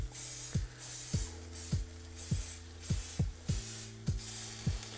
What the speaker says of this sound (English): Give us another light spray.